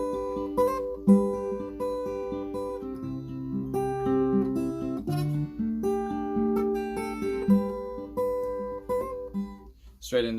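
A fingerpicked acoustic guitar intro of a song played alone, individual notes ringing out in a steady, flowing pattern with bass notes underneath.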